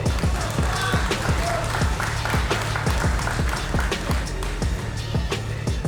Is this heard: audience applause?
yes